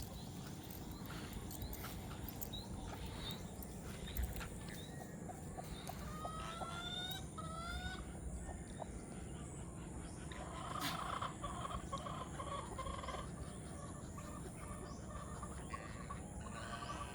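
A turkey hen and other farmyard fowl cluck softly and intermittently. The calls are faint and sit over a low, constant outdoor background on a small farm.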